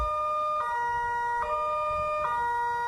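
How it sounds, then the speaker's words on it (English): A steady, multi-tone early warning siren wails continuously at a moderate distance during a test, its pitch holding level with faint periodic pulses. "This is a test of the Paradise Early Warning Sirens."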